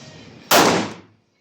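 One sharp, powerful gunshot bursts at close range inside an indoor shooting range at Taksim Shooting Club, its echo fading over about half a second into near silence.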